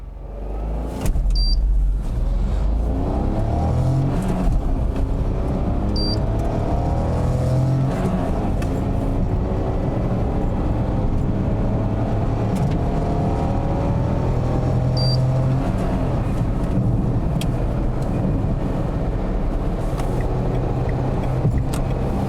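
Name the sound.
Renault Oroch Outsider car driving, engine running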